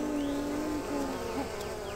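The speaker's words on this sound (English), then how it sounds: "20 bees, all buzzing in the same direction" Honeybees buzz steadily in a continuous close drone, several wingbeat tones overlapping and sliding in pitch as insects pass near.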